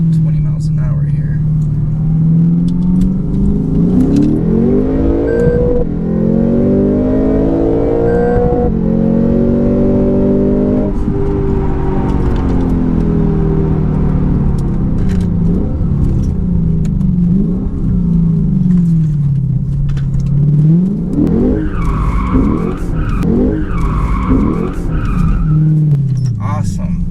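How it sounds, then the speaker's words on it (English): A 467 hp Lexus GS-F pulls hard in first gear from a rolling start of about 20 mph, its loud engine climbing steadily in pitch, shifting, then surging again, with a voice talking over it near the end. "do a quick first gear pull here from rolling first gear"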